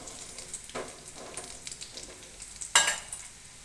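Onion bhajiya crackling in hot oil as they are flipped to crisp the other side, a steady close sizzle with scattered pops and one sharp loud splash and hiss near the end.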